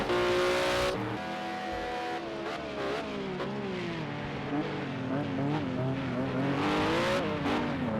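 Race cars circle the Le Mans track in the Project Cars 2 video game on Xbox, engines whining and revving up and down through gear changes, several cars overlapping, loud and continuous without speech.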